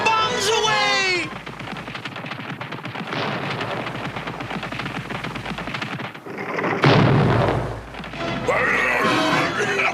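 Bombs drop and explode in a cartoon battle, a string of booms, thuds and crashes with bursts of gunfire-like blasts, interspersed with animated character voices and whistling falls.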